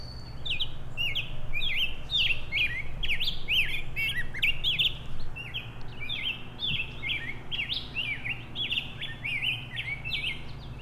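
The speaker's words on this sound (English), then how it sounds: "That right there is a rose-breasted grosbeak." A rose-breasted grosbeak in the woods sings a continuous, warbling run of bright, rising and falling notes, clear and fairly close over a low steady background hum, with no speech.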